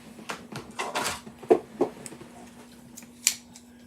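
Sharp scissors snip and crinkle through LEGO packaging, giving a few short cuts and rustles with small clicks in a quiet room, close and moderately soft.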